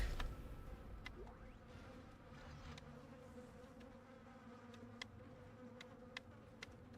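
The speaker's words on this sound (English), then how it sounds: "I just don't like the sound of the flies buzzing." Flies buzzing in the survival horror game Dead Space (2008), a faint continuous insect drone with wavering pitch, low and ambient under occasional soft clicks.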